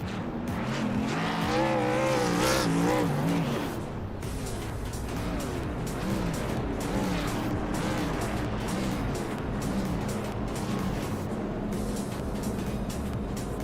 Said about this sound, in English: we're going to see the traditional donuts, burnouts celebration from Aaron